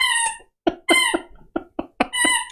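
A dog squeaks in the background in a run of high, tonal, squeaky yelps, about eight short bursts with brief gaps, fairly loud and alone without talk.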